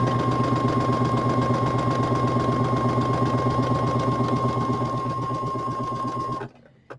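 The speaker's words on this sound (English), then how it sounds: "line it up under my sewing machine, and I'm going to sew that one" A sewing machine stitches quilting fabric in a steady, fast mechanical whir with a constant hum, then stops abruptly near the end.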